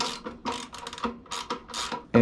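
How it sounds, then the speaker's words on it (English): Ratchet wrench clicking in quick bursts while loosening the rear wheel of a minibike, close and fairly loud, with short pauses between the rapid pawl clicks and a louder final knock. "Now we can remove the rear wheel with our wrench and our ratchet."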